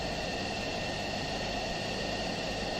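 A jet engine in the Falcon 4 flight-sim video game holds at 70% throttle, giving a steady, loud, broadband roar with a constant whine that stays even from start to finish.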